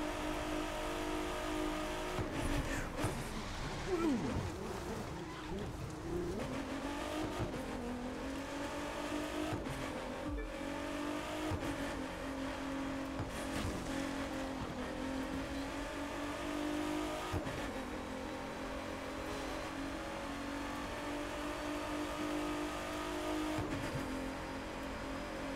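A 2017 Ford GT in the racing game The Crew 2 accelerates hard on nitrous along a straight road, its engine roaring steadily and loudly for the whole stretch, with rising revving tones and no talk over it.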